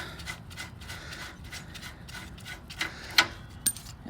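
A castle nut is worked off a trailer wheel hub, giving quiet mechanical clicking and ratcheting close by, with a few sharper metallic clicks near the end.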